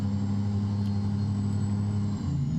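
Kenworth W900 truck engine in American Truck Simulator, a poorly performing engine fitted to the truck, idling or cruising with a steady low drone and droning harmonics that dip slightly near the end, with no talk.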